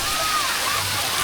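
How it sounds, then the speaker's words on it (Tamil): Water splashing and spraying at a water park ride, a steady, dense rush of water close to the listener with no pause across the short moment. "என் மேல அடிக்காத, லென்ஸ்ல தண்ணி போடும்."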